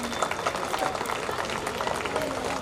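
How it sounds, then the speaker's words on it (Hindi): A Ramleela crowd applauds for the children performers, a continuous dense patter of many hands clapping at moderate volume, with a murmur of voices mixed in. "इन बच्चों के लिए भी एक बार तालियां जोर से।"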